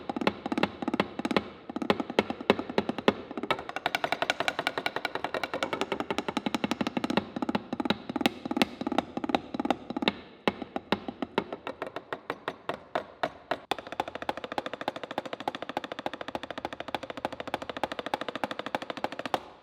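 ATV AD-H14 electronic hi-hats are struck in a noisy metal barn with a stage, giving rapid, sharp stick taps in quick rhythmic runs against a loud, reverberant background of thudding and clatter.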